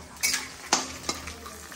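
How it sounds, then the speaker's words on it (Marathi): Peanuts and dried red chillies being roasted in a pan at home, giving a quiet sizzle with three sharp scrapes and stirs of a spoon against the pan, without any voices. "मिरची टाकल्यात, आता शेंगदाणे टाकलेत ना. आता हे शेंगदाणे परतून घेतात."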